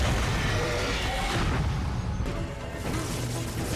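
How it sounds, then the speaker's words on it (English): Fireworks exploding in the TV show Stranger Things, a dense loud barrage of crackling booms and bursts filling the scene continuously. "You're going to run out of fireworks"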